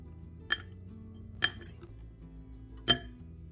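A spoon stirring bika ambon batter in a bowl, three sharp, separate clinks against the side spaced about a second apart, quiet and close over a soft low background.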